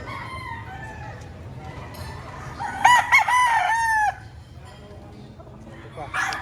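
Gamecock roosters at a poultry market in Padre Garcia, Batangas crow loudly close by, with one clear cock-a-doodle-doo rising over clucking and background market noise while someone talks.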